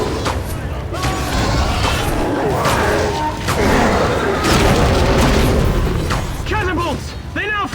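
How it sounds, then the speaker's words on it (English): Catapult bombardment rains on a causeway during a battle in Lord of the Rings: Conquest, with heavy booming impacts and crashing debris layered over constant battle din, shouted voices rising near the end. "Catapults! They now fire upon the causeway!"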